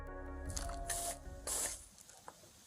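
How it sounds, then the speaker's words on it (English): Police pepper spray blasting into a crawl space at a hiding suspect, two loud hissing sprays close by over a low rumbling background. "That's when the police resort to pepper spraying him out."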